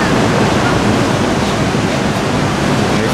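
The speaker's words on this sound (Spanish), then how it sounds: "Ahí están las olas." Ocean surf breaking on a beach at Ixtapa Zihuatanejo, a steady loud wash of crashing waves and hiss filling the whole stretch, with a little wind noise and no clear talk.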